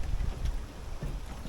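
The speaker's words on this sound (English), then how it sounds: "It's so windy." Strong wind buffeting a microphone outdoors near a parked van, a steady low rumble and roar throughout with no voices.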